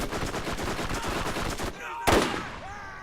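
Rapid automatic gunfire in the video game Borderlands, a dense stream of loud, close shots for nearly two seconds, then a short pause and a final burst with an electronic whine trailing off.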